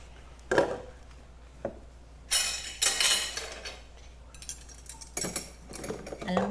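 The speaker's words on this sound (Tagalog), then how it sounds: "Ang dami kong mga hugasan." Dishes, pots and cutlery being washed in a home kitchen give irregular clinks, clatters and bursts of running water, close and moderately loud, with no talk.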